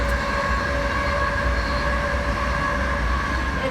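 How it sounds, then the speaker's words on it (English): A train rumbles past right behind a balcony in China, with a loud steady roar of wheels on rails and a thin metallic squeal running throughout. "I have a train right behind me"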